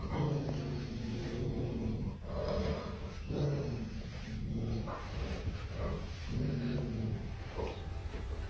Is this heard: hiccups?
no